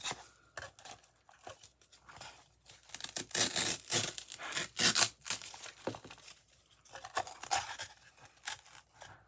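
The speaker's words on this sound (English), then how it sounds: "Okay, now we've got a piece of foam here. I'm just going to cut a piece of it out." A blade cuts through a piece of craft foam for dollar-store Easter decor, making close, irregular bursts of tearing, scratchy crunching that swell and fade in clusters with short pauses between strokes.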